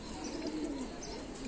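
Pigeons at a pigeon farm give a faint, low coo that sits within steady background noise, somewhat distant and brief.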